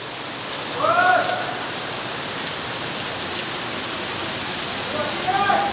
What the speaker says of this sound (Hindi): बारिश ने खूब जो है ना जोश दिखाना शुरू कर दिया हुआ है।